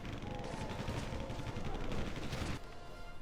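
A machine gunner unit in Warcraft 3 Reforged fires in a sustained, rapid rattle of gunshots amid a busy battle, dense and loud until it cuts off abruptly near the end.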